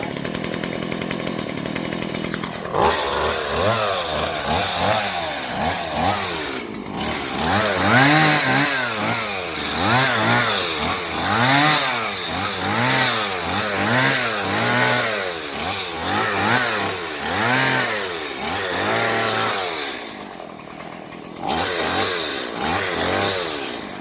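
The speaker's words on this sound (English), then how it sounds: "while I'm using that chainsaw" A chainsaw runs through a small landscaping job, its engine revving up and down in repeated cycles, loud and close for most of the stretch with short idling dips between cuts.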